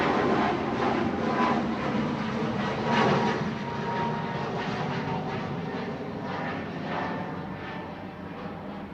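Ryanair jet at Manchester Airport, a broad rumbling engine roar at moderate distance, steady and gradually fading.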